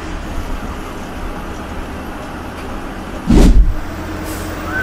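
Steady, loud road rumble heard from inside a bus entering Mumbai on a four-lane road in heavy traffic, with one vehicle rushing closely past partway through; no voices.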